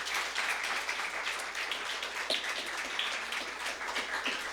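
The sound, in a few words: applause from a congregation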